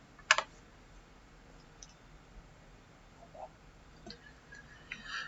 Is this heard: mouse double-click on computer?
yes